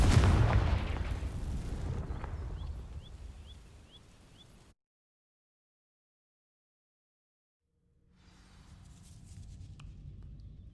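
In the video game Hogwarts Legacy, a Confringo fire spell ignites dry vines with a loud, close boom that decays over a few seconds. Total silence follows, then a low rumble returns.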